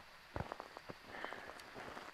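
Rain in the ghost-hunting video game Phasmophobia during its Halloween event: a steady, fairly faint hiss of falling rain with a few soft thuds and taps scattered through it.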